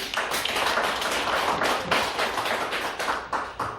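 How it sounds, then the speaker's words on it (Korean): A church congregation claps together during a Sunday sermon, a dense, steady wash of many hands that stays loud and close throughout, with individual sharper claps standing out near the end. "우리 하나님께 영광의 박수를."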